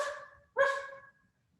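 Two voiced bark-like yelps, a short one followed by a longer, stronger one, made by people imitating a dog during a group exercise session, close and clear with silence after.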